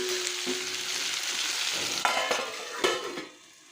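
Ivy gourd (tindora) frying in a pan over a medium flame, a steady close hiss of sizzling with stirring scrapes and a couple of sharp clinks near the end before it quiets.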